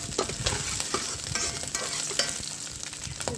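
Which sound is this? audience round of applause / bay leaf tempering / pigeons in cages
bay leaf tempering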